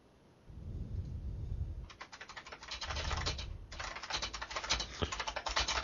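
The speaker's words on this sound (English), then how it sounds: "Stop teasing me with your keyboard." Rapid clattering keystrokes on a computer keyboard come in uneven bursts, close and fairly loud, with a brief pause partway through before the typing resumes, alone without any voices.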